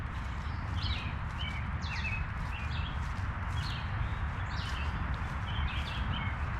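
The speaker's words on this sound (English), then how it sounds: "I love the sound of the birds." Scattered high bird chirps and short whistled calls in Fellows Riverside Gardens, Mill Creek Park, Youngstown, Ohio, over a constant low rumbling background, moderately distant.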